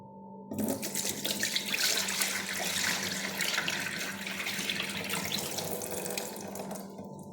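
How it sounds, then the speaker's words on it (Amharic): Water is poured off a batch of injera batter in one steady, continuous splashing stream lasting several seconds, close to the microphone with no talking. "አሁን ይሄ ውሃ አይጠቅመንም ማለት ነው። እንደፋዋለን እንዳለ ደፋዋለን።"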